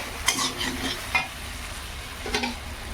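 Meat tipped into a pan of spiced potatoes frying in masala, then stirred, with a steady sizzle and a few scraping spoon strokes against the pan, close and moderately loud, no talking.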